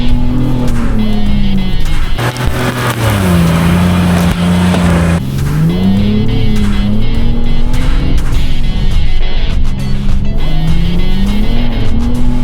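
A 2026 Ford Bronco Raptor engine revs and pulls while driving, its loud close exhaust tone rising and falling through several gear changes, with no talking.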